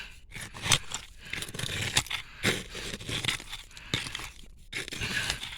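A tool digs through a crunchy layer of broken glass in an old dump, giving repeated close scraping crunches and sharp clinks that come in irregular bursts, with no talking.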